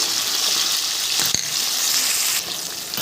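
Spices and ginger paste frying in a hot pan over a lowered gas flame, a steady loud sizzle close by with a brief clatter partway through, then the hiss eases slightly.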